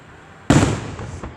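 A single loud firework burst at an Independence Day show in Downingtown, sharp and sudden after a quiet murmur, with a crackling tail fading over about a second.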